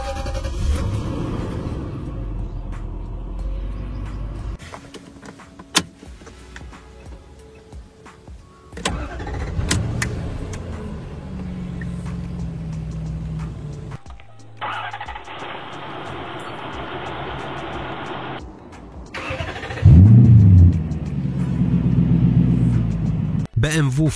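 A Lexus LS400 V8 cranks and fires into a deep rumbling idle, heard up close among several engine start-ups and revs, with talking over parts of it.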